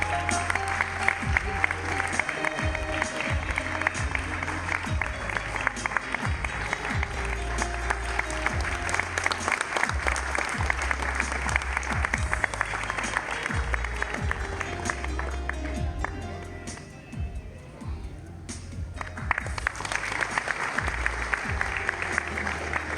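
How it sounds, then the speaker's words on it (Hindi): At the 2018 Mohammed Rafi Award ceremony, an audience claps loudly and continuously for winner Usha Timothy, a sustained wash of applause that dips briefly near the end before swelling again. "आपकी जोरदार तालियों के साथ"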